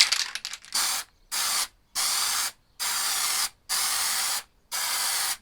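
Granit effect spray paint hisses from an aerosol can in six short, even bursts separated by brief pauses, close and loud with no voices.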